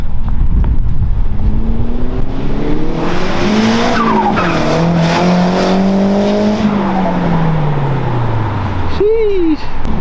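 A Nissan Skyline R34 GT-R passing in a flyby, engine note rising and falling as it approaches and recedes, loud and close, with a brief squeal near the end.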